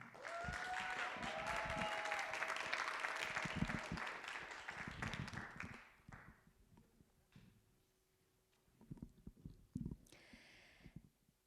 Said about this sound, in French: Je vous demande d'applaudir Zélie.